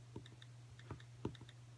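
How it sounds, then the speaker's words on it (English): Computer keyboard keys clicked a handful of times in irregular light taps, faint and close over a steady low electrical hum, with no talk. "I'm just gonna type that in."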